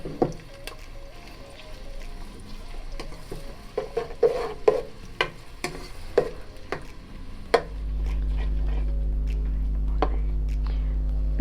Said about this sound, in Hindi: प्याज को पहले हम थोड़ा सा नरम करेंगे।